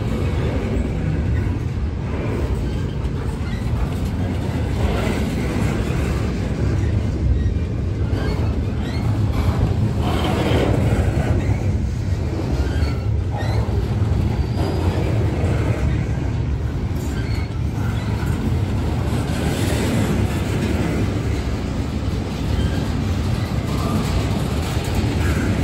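A long train hauled by a lash-up of several locomotives rolls past in a steady, continuous roar of rumbling wheels and engines, heavily buffeted by wind noise on the microphone, with no talking.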